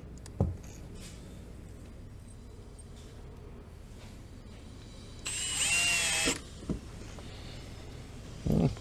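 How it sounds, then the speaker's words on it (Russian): A power drill drives self-tapping screws into copper roof hooks; a single loud whirring burst of about a second stands out amid quiet handling, with a few brief knocks before and after. "И закручиваем туда дополнительные саморезы."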